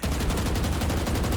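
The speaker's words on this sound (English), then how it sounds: "this is how you shoot a Vandal with a ult." A Vandal rifle in Valorant fires a rapid, unbroken automatic burst while Reyna's ultimate is active, each shot a sharp crack in a dense, even stream that fills the whole moment at close range.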